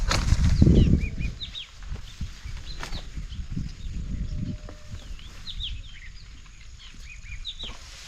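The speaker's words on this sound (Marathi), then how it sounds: "पक्ष्यांचा कसा चिवचिवाट चाललाय दिसता" Small birds chirp and twitter in scattered short calls across the scene, with rustling and occasional low thumps nearby; no one speaks.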